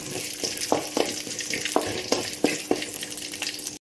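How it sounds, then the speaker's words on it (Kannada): Mustard seeds splutter in hot oil, crisp irregular pops crackling over a continuous close sizzle for a few seconds. "ಹಾಗೆ ಸ್ವಲ್ಪ ಸಾಸಿವೆ, ಪಟ್ಪಟಾಣಿ ಇದು."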